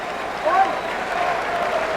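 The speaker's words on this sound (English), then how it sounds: "half of them are applauding their team, and I think the other half that are applauding also mean to applaud the Lakers" Boston Celtics fans applaud in the arena at the 1985 NBA Finals Game 6 against the Lakers, a steady wash of crowd clapping with a brief swell, commentator voices running over it.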